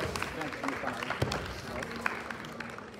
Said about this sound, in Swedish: Stora applåd.